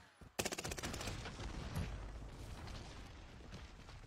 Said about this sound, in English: I'm literally being sniped from somewhere